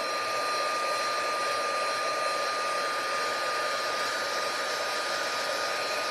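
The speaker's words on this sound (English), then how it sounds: "So now I'm ready to heat this so that the embossing powder melts." A heat tool melts embossing powder for a crafting technique, a loud, steady blowing whine with a constant high tone and no change throughout.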